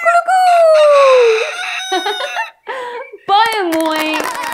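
A voice imitates a rooster's crow in an Afrikaans children's rhyme about farm animals, giving several loud, drawn-out, wavering cock-a-doodle-doo calls close to the microphone with brief pauses between them.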